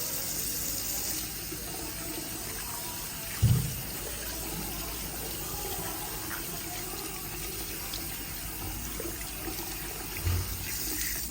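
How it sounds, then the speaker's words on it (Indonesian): Steady running tap water fills the whole stretch as hands are washed under a faucet, a continuous even hiss with two brief louder splashes or knocks, no voices heard. "saya sudah selesai melakukan cuci tangannya"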